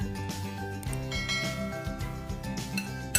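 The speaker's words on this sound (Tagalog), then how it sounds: "Ngayon, ihahalo natin siya dito." A utensil stirs an egg and noodle omelette mixture in a bowl, giving soft clinks and scraping over steady background tones, close and moderately quiet.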